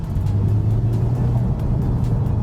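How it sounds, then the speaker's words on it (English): The 4.0-litre naturally aspirated engine of a Porsche 718 Boxster/Cayman GTS pulls in a steady, low, droning tone under load from inside the car. It holds an even pitch throughout with no talk. "you push down that naturally aspirated engine, it just picks right up"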